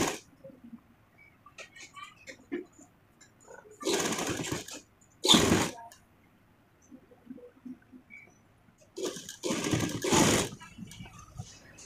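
A sewing machine stitching the sleeve of a garment in short, quiet bursts of rapid whirring, several separate runs with pauses between, recorded close in a calm room.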